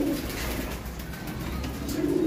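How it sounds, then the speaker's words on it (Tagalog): A pigeon gives low, soft coos close by, the calls swelling at the start and end over faint background hiss, with no talking. "Gandang ibon, no?"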